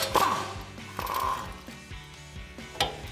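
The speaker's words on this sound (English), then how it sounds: "So we'll grab our 12 millimeter socket to take that out." A 12 mm socket ratchet works loose a brake line bracket bolt on a truck's front brakes, giving quick bursts of close, clicking ratchet strokes with a few metallic taps in between.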